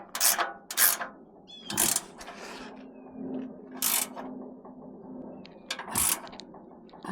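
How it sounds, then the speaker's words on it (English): Bolts are tightened on a TRUMGETA adjustable truck bed roll bar chase rack, with several sharp bursts of ratchet clicking separated by pauses, quiet handling and faint metallic rubbing nearby. "we're just going to go ahead and tighten these up"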